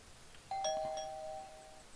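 A two-tone electronic doorbell chimes once in the video game Thief Simulator, bright and clear, its second tone ringing out and slowly decaying over quiet background.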